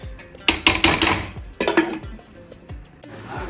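A metal lid goes onto a pot of simmering Hyderabadi green chicken curry with a cluster of clattering, clinking taps. Scattered clanks of metal cookware follow, close and fairly quiet, with no voice.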